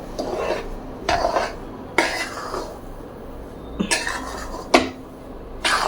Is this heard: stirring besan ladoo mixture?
yes